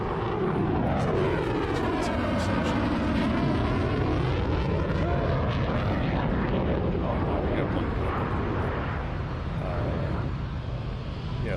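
An F-22 fighter jet roars past at an air show, a loud continuous engine rumble and whine with a sweeping pitch that rises and falls as it passes. The sound is heavy and sustained throughout, with crowd voices faintly mixed in.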